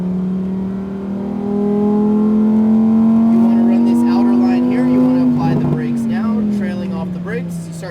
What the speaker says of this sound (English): Start to accelerate out of the corner towards the right-hand side.